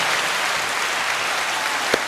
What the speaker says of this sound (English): let's give ourselves a round of applause for being mature